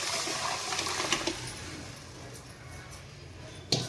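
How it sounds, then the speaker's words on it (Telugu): Blended tomato charu, a thick rasam, is poured into a cooking pot as a soft, continuous liquid splash with a few brief louder spatters, heard alone. "మిక్సీ పట్టుకున్న టమాటా చారు ఇందులో పోసుకుందాము"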